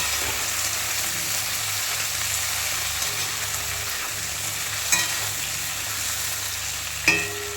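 Taro and fish frying in a pan while being stirred, a steady close sizzle with a couple of sharp utensil knocks near the end.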